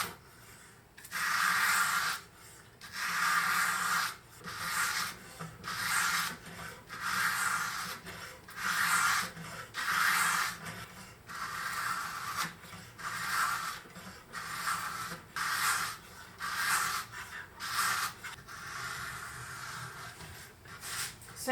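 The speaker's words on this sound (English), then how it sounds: "now let's start sharpening the knife" A knife is sharpened on sandpaper laid over soft foam, drawn in one direction only: about a dozen close, even rasping strokes follow one another in a steady rhythm, with no talking.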